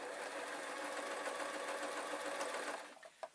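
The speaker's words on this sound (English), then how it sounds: "I'm going to sew up my ends as well, which I'm going to cut when I get a bit closer." A sewing machine stitches a witch hat in a continuous fast whirring run that stops near the end, followed by a few faint clicks, close up and with no talk.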